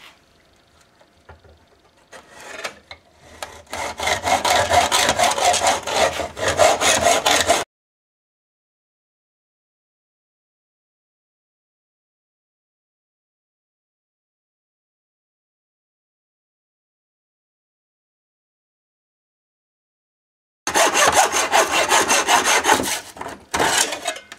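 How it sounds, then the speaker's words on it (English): A handsaw cuts down the metal barrel of a homemade air shotgun in two bouts of loud, rhythmic rasping strokes separated by a long silent gap, close up and with no talk. "I'm going to cut down the barrel, and I've decided to take 3 inches off."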